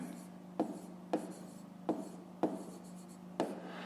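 A pen or pencil writes out the solution to a fifth-grade math exercise in five short, scratchy strokes spaced by brief pauses, close and quiet with no talk.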